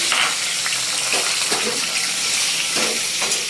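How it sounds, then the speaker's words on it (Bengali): Pieces of gathi kochu (taro) fry in a pan with a continuous loud sizzle, broken by a few soft stirring scrapes and knocks, with no voices. "এগুলো একটুখানি ভাজা ভাজা করে দিই।"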